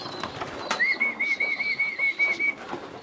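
Racing pigeons at a loft during trap training give a sustained whistling call and soft cooing, with a brief sharp knock near the start, close by and alone without talk.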